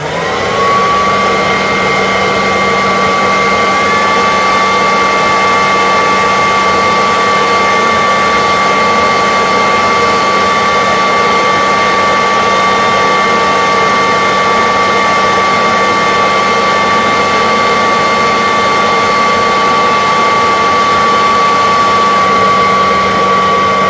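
A Kirby Dual Sanitronic 80 vacuum runs steadily with its brush roll engaged, giving a loud, close, constant motor roar with a high whine that holds unbroken throughout.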